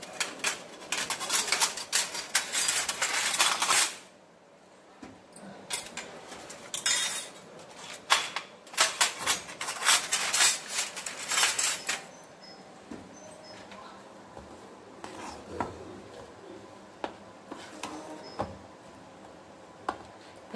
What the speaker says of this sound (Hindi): और इसे मैं घोल लूँगी